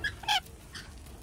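A dog whimpers close by in a couple of short, high whining bursts with quiet gaps between them, and no one speaks.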